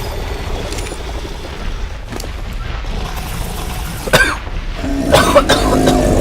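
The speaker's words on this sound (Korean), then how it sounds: "자꾸 기침이 나오네" Several harsh coughs ring out close to the microphone, spaced a second or two apart, ending in a rougher burst of coughing and throat clearing.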